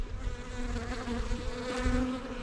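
Honeybees at a farm hive give off a close, steady, dense buzzing drone that wavers slightly in pitch, heard alone without any talk.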